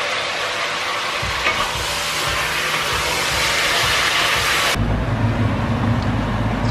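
Vegetables with sprigs of rosemary and sage frying in a pan for a beef ragu, a bright steady sizzle with stirring scrapes, then the hiss drops away abruptly, leaving a low rumble.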